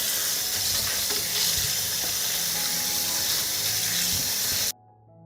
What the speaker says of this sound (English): I'll wash the cherries first.